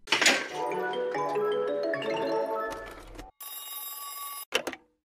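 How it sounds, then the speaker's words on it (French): Old-style telephone bell ringing in a luxurious first-class cabin aboard the Titanic, loud and close: a long metallic ring, a brief pause, another sustained ring, then a short final burst. "Certaines des cabines luxueuses de la première classe sont équipées d'un téléphone"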